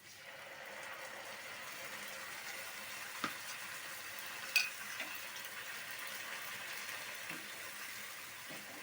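Ground spice paste, strained after blending, sizzles in a pan of hot oil with salted onions while cooking a Bengali fish lunch, giving a steady, soft hiss with a couple of brief clinks from stirring.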